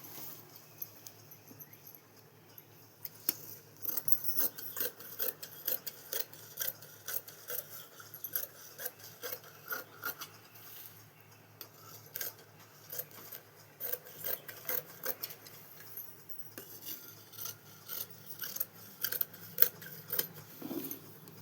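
Scissors cutting cloth for a Punjabi dress, giving close, quiet, repeated snipping and rasping strokes in uneven bursts, with no talking.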